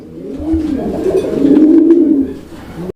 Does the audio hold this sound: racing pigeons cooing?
yes